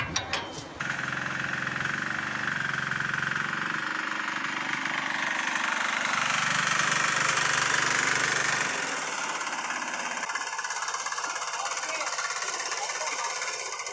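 A tractor engine idles with a steady low rumble and chugging, close by, while people talk over it; the engine noise drops off near the end.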